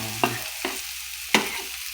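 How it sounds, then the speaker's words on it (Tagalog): Chopped onion and garlic sizzle in a frying pan for fried rice, with three sharp stirring scrapes of a utensil breaking over the steady frying hiss. "Gisa-gisa, halo-halo."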